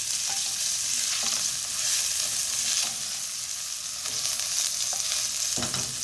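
Garlic fries in a spoonful of cooking oil in a hot pan for lotus root braised in gochujang, a steady close sizzle with occasional stirring scrapes throughout.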